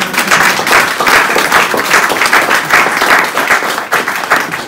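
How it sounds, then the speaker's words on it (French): Loud, vigorous applause from a church congregation during a French-language sermon, dense clapping filling the space close and steady throughout. "Applaudissez."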